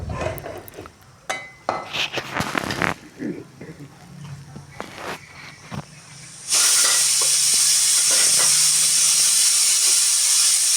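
Rice flour dough steams in a covered pot on a low village stove, first with scattered clatter and some talk, then a loud, steady steam hiss that starts suddenly and runs unbroken to the end.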